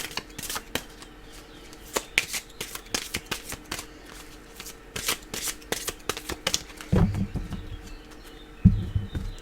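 Tarot cards being shuffled by hand, a close series of rapid riffling bursts repeating in quick rhythm, with a few soft thumps near the end.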